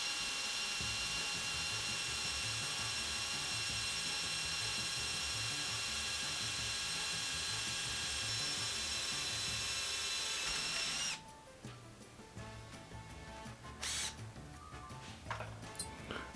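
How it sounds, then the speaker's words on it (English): A power drill whines steadily at high pitch for about eleven seconds while drilling into metal, then stops abruptly, leaving quieter scraping and handling noises. "really well push down your drill in the hole. So your bit can grab and bite"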